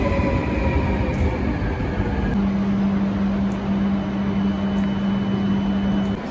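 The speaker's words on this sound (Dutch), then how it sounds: "O jeetje, er is de trein al." Passenger train pulling into Rilland-Bath station in Zeeland, with a loud, steady rumble of wheels and motors close to the platform and a sustained tonal whine that holds through the arrival. No voices are heard.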